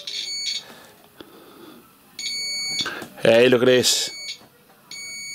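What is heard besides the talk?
digital multimeter continuity beep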